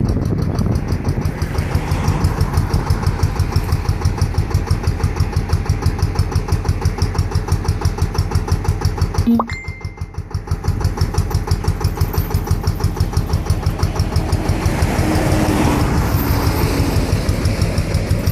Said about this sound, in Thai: อันนี้คือเราไม่ได้เร่งเลยนะคะ เราไม่ได้เร่ง เครื่องช่วยในการดั้มเลยนะคะ